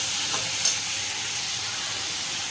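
Vegetables seasoned with salt and turmeric stir-fry in a pan, giving a steady, even sizzle and hiss with a faint scrape of stirring near the start. No one speaks.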